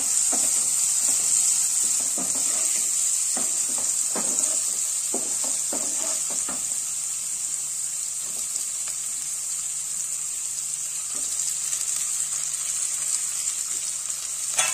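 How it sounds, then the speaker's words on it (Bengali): Steady sizzling of capsicum frying in a pan, with scattered stirring clatter early on, continuous and fairly close throughout. "ক্যাপসিকামগুলো দিয়ে আবার কিছুক্ষণ ভাজা ভাজা করে নেব।"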